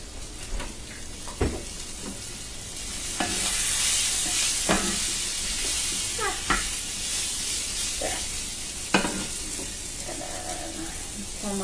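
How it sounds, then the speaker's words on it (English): Olive oil and vegetables sizzle in a frying pan, a bright steady hiss broken by intermittent spatula scrapes and clinks against the pan, close up with no talk. "So I'm going to put a little more olive oil in the pan."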